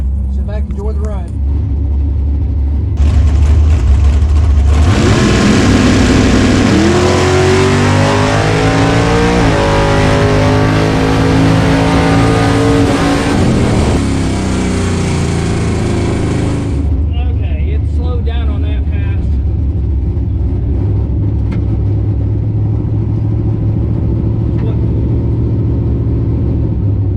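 A bracket drag race car launches from a pro tree start and accelerates hard, its loud engine swelling into a roaring, rising howl for about twelve seconds before fading. Steady wind or engine rumble continues around it, and a voice speaks over the noise.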